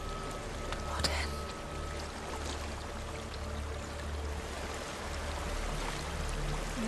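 Flowing water in the game Hellblade: Senua's Sacrifice, a steady soft rushing stream with a low rumble underneath and a brief splashy burst early on, fairly quiet throughout.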